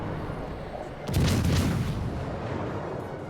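Warship guns fire in the naval battle game World of Warships Legends, a deep booming salvo rolling out over steady background noise, loud and close, with no talking.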